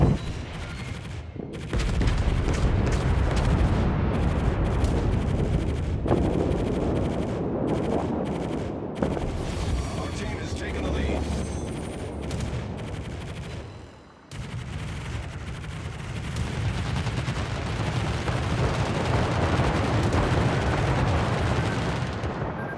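Warship naval gunfire in World of Warships rolls out as repeated heavy booming salvos and dense crackling blasts, loud and sustained over twenty seconds, with a short lull midway before the barrage resumes.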